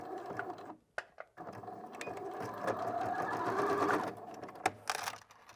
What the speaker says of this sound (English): don't forget to backstitch at the end of your seam